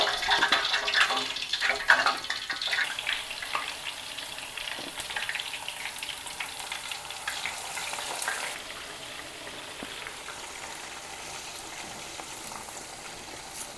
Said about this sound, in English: I'm just gonna fry what I have in the pan right now